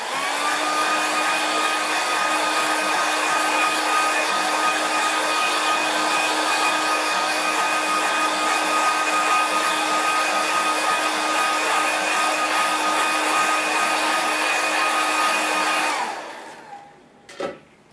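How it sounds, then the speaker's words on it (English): A hair dryer blows steadily and loudly over a watercolour painting for about sixteen seconds, then switches off and winds down, followed by a couple of soft knocks. "I just need to give it a quick dry."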